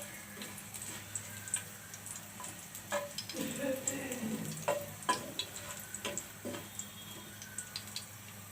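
Dry chillies hit hot mustard oil in a pan, giving a soft crackle and sizzle that swells midway with a few sharp ticks and pops, fairly quiet against a steady background hum.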